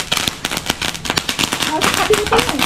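Diwali firecrackers burst on a road in Odisha, a rapid, uneven string of loud cracks and pops with a crackling tail, while people talk nearby.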